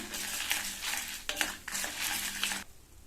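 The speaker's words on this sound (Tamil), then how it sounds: "இப்போ நம்ம சேர்த்த இந்த மிளகாவுமே நல்லா வறுபடட்டும்." Dried red chillies and pepper dry-roasting in a pan for a spice powder for raw banana curry, a steady soft rustling scrape as they are stirred, with short louder bursts, close and alone.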